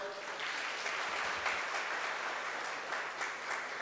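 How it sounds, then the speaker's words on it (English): Graduates and guests at a secondary school graduation ceremony clap in a steady, sustained round of applause, the sound even and roomy with occasional sharper claps and no talk over it. "Give yourself a round of applause"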